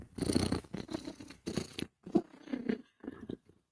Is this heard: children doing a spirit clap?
no